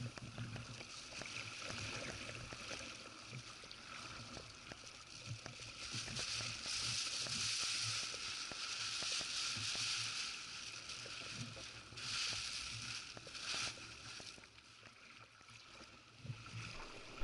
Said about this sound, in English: Paddling in between the islands.